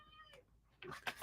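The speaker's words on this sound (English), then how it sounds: "Can y'all hear my cat?" A pet cat meows a couple of times, close but quiet, with a short high call followed by a louder, longer one.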